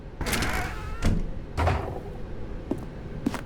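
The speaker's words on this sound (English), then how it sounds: "Stanley walked through the red door" Doors in The Stanley Parable video game, with several short muffled thuds and sliding knocks spaced about half a second apart, close and moderately loud over a quiet background.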